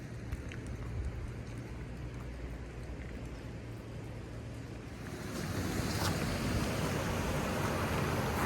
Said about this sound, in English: Suddenly there's a lot of water washing down.